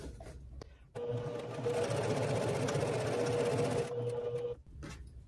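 A sewing machine stitching bandana quilt pieces together runs steadily for about four seconds with a close mechanical whir and hum, framed by quieter handling noises before and after.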